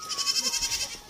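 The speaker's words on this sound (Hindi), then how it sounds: "ये देखो बकरा" A goat bleats in a rapid wavering series of pulses at close range, with the herd back home at sunset in the Uttarakhand hills; there is no talk.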